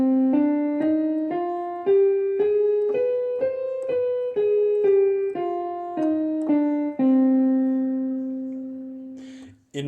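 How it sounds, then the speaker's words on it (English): Saxophone plays a C harmonic minor scale, a run of clear sustained notes stepping up then back down in an even rhythm, close and loud, ending on a long held low note with no talking. "C harmonic minor is going to have a lowered third, a lowered sixth, but a raised seventh."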